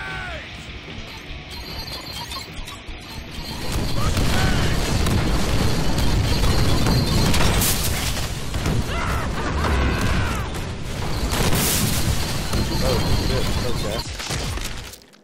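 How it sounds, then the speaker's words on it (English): Grenade blasts in the Deadpool video game: loud booming explosions and crashes that swell from about four seconds on and keep going in a dense, chaotic barrage, with a voice talking over the action. "Grenade!"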